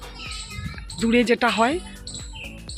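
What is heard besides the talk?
bird calling outdoors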